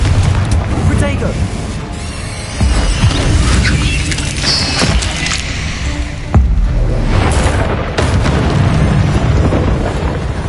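Confringo and Bombarda spell blasts in Hogwarts Legacy, a string of heavy booms and crashing impacts over dense, continuous combat noise, loud and close, with a player's voice over the action.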